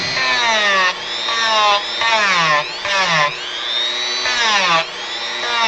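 A high-RPM rotary tool carves a wooden model platform, its whine sweeping up and down in pitch as it bites and lightens across several close, loud passes.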